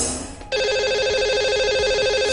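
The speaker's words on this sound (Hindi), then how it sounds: "आइए उन्हें नंबर लगाते हैं।" A telephone line connects to reach a radio show caller: a short dialing sound, then a steady electronic ringing tone that pulses on and off, clear and close.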